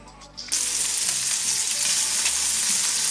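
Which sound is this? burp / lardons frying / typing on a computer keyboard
lardons frying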